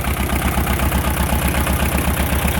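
A boat engine that was rebuilt from scratch runs loud and close at a steady idle, with a regular low thumping pulse throughout and no talk.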